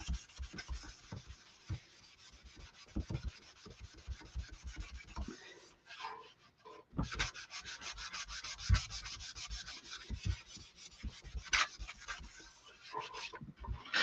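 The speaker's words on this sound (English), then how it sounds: "So I'm just going to go back in and buff it." Wax being buffed by hand over a chalk transfer on painted wood, close, rhythmic rubbing strokes that repeat steadily with a short pause midway.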